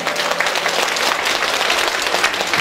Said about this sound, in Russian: Вот сейчас давай зал аплодисментами зайдем